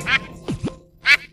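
Cartoonish duck quacks in a Turkish hair conditioner advert on an ugly-duckling theme: three short nasal quacks, close and loud, with a pitch-swooping squawk between the first and last.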